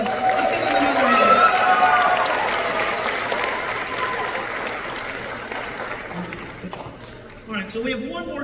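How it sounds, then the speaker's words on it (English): A high school jazz band concert audience applauding the soloists, a dense wash of clapping that swells and then slowly fades, with a voice speaking over it near the end. "Let's give them another hand."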